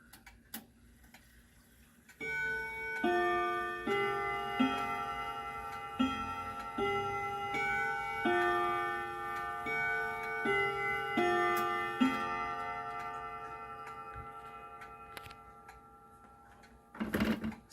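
A clock chiming a melody on its original chime rods, a series of ringing, overlapping tones that sustain and slowly decay in a quiet room.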